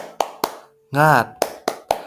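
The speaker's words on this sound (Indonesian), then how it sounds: "Ayo kita tepuk semangat dulu." Children clap a rhythmic spirit cheer in a prayer lesson, sharp separate claps in a quick pattern broken by a short burst of chanting voices, then more claps.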